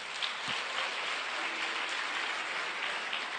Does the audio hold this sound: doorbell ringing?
no